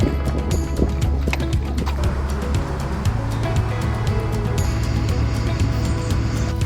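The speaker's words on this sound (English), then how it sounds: "Caserta's grand fountains, their shimmering waters and intricate designs, are a refreshing oasis" Grand fountains in the palace gardens at Caserta, Italy, splash and pour continuously with a broad, steady wash of falling water and faint low rumbling throughout.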